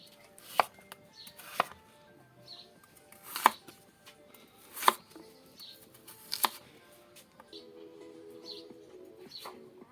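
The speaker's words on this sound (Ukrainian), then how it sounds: "рубаємо картоплю, картоплю рубаємо великими крупними фракціями, ось такими кубами прямо" A knife chops potatoes into large cubes for fish soup cooked outdoors, with sharp, separate thwacks on a board at irregular intervals and birds chirping and cooing softly in the background.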